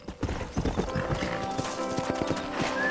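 Horse hooves clip-clop in a quick, steady rhythm in the video game Red Dead Redemption, close and fairly loud, with a faint high whine in the background.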